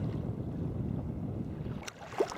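Sea water sloshing and splashing against a sea kayak off Elgol on the Isle of Skye, a steady close rumble of choppy water mixed with wind buffeting, with a sharper splash near the end.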